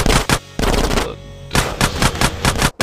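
Rapid bursts of gunfire in a drive-by in a video game, several loud volleys of shots in quick succession separated by short gaps, close and punchy.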